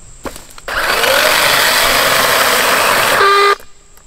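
Dewalt 20V cordless chainsaw restarting after its motor stops mid-cut: a sudden loud, steady electric whine and cutting roar runs about three seconds at close range, then cuts off abruptly.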